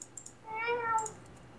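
A Minecraft cat gives a single clear, drawn-out meow, with faint keyboard clicks before and after it.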